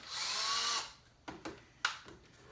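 A power drill with a keyless chuck, used while rebuilding a saw stand, whirs in one short high burst that stops abruptly, followed by a few sharp clicks and knocks nearby.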